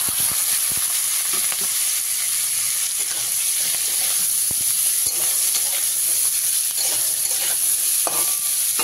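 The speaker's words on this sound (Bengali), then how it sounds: "দিয়ে অল্প কিছু সময় এরকম ভেজে নেব আলুটাকে।" Boiled potatoes frying in oil with five-spice seasoning over a medium gas flame, a steady bright sizzle with intermittent scraping and stirring clicks, close and continuous.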